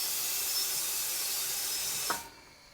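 Pneumatic clamps on a Twin Bush TW X 98 tire changer close automatically after the pedal is released: a steady compressed-air hiss that cuts off with a brief thump, then near silence.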